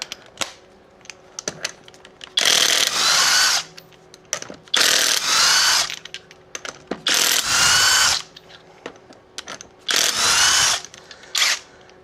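An impact gun or power tool spins lug nuts off the wheels of a 2012 Ford Focus, loud whirring bursts of a second or so repeated several times, separated by quiet clicks and handling noises.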